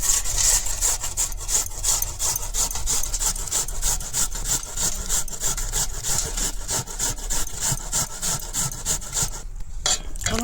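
Vegetables being sliced thinly on a handheld slicer, giving loud, close, rhythmic rasping strokes in quick regular succession with a short pause near the end.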